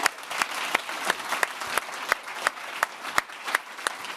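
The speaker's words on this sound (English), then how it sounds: "Round of applause for Craig, come on." An audience at a scholarship event applauds for Craig, steady crowd clapping with sharp individual claps standing out, fairly near and without talk over it.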